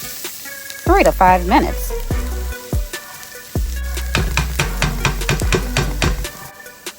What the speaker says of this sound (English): Add onions to the skillet. Combine and cook